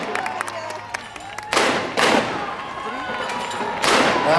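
Naval field guns fire in a timed gun-crew race at the Royal Edinburgh Military Tattoo, a HMS Neptune team competing: three loud booming shots well spaced apart, ringing out over crowd noise, with a commentator talking early on.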